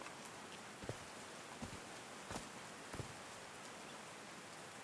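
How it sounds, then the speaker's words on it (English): Rain falls in the video game Call of the Sea, a soft steady hiss of drops with a few faint patters and thuds over the quiet wash. "These drops of rain are so refreshing."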